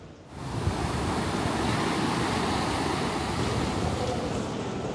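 Ocean waves and surf roll in a steady, loud wash of broadband noise with some wind, starting after a brief quiet moment and carrying on without talk.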